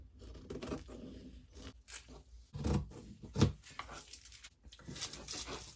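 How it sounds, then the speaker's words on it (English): Scissors trimming sewn Blizzard Fleece fabric, quiet snipping and rustling with a few sharper crunchy cuts, close but soft, no speech. "Let's give that a trim."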